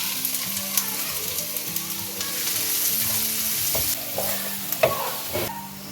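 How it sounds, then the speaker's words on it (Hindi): Chopped medium onion frying in hot oil in a pan, a steady close sizzle with scraping stirring strokes running throughout. "जब ऑयल हल्का सा गर्म हो तो एक मीडियम प्याज जिसकी मैंने चॉप में कटिंग कर ली है वो डाल दें।"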